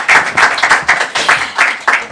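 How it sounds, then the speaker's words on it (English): An audience applauds panelists at a Davos 2026 session, a dense, steady burst of many hands clapping close by, with no speech over it. "Might I ask for a big round of applause to my panelists"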